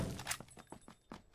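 Objects breaking from a grenade blast in PUBG, a quick cluster of shattering cracks and thunks in close succession, lasting barely over a second.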